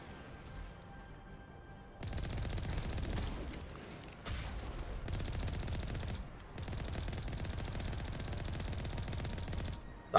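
Automatic weapon fire in the video game Mass Effect Legendary Edition, sustained rattling bursts broken by short pauses, loud and dense, with a sharp bang at the very end.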